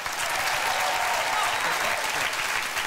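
Studio audience applauds a man about to play the world's largest accordion on a Dutch television show, a dense, steady wash of clapping that stays loud and even throughout.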